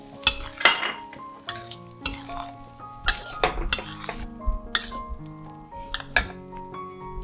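Tomato pasta sauce with tricolor bell peppers stir-fried in a pan, a soft sizzle punctuated by repeated clinks and scrapes of a utensil against the pan at an irregular pace.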